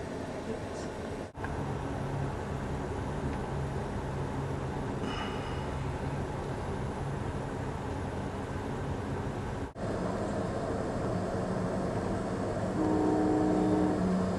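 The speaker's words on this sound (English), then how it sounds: "Now it's time for our train to pull out." A low, steady rumble of a train moving along the tracks, with faint clanks and a tonal horn-like hum near the end.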